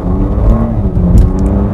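A BMW Z4 with a twin-turbo engine accelerates hard, its loud, steady engine drone rising in a continuous pull, close and without any talk.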